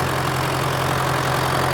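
A 130-horsepower tractor engine running steadily on a farm during sunflower sowing, a loud, close, continuous low rumbling drone with a constant hum and no talking.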